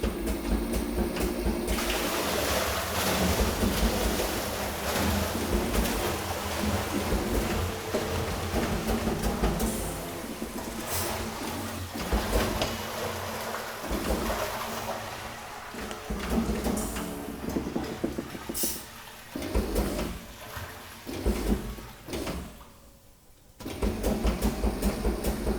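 An ATEX pneumatic hydraulic drum tipper with power clamp and power drive rotates a drum, giving a continuous mechanical whirr and rattle with irregular knocks and hisses, briefly dipping near the end before resuming.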